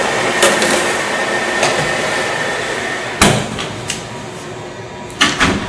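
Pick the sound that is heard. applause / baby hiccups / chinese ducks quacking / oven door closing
oven door closing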